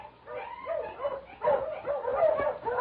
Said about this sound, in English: suddenly I heard a dog.